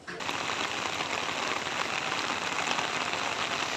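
Heavy torrential rain pouring down during a flood in Kurigram, Bangladesh, a dense steady hiss of drops on surfaces that starts abruptly and continues unbroken, fairly close and without talking.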